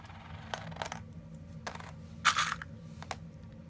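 Coins, including quarters, dimes, nickels and pennies, clink and drop onto a hard surface during a classroom money game, several sharp separate chinks with one brighter jangling spill near the middle, close and without speech.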